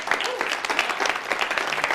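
Brief burst of audience applause at a motivational talk, a dense patter of clapping hands with a few sharper claps standing out, steady and close for about two seconds.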